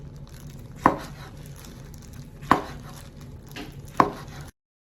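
A knife cuts through kimbap rolls on a board in three sharp, evenly spaced chops, each a crisp thud over a faint outdoor background, with no talking.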